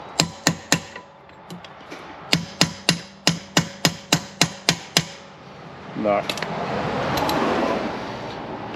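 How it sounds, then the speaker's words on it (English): Hammer blows strike metal during a broken mower repair at an awkward angle, a loud close series of about sixteen sharp rhythmic hits in two bursts, followed by scraping and rustling handling noise. "A very awkward angle to try and hit the hammer with here."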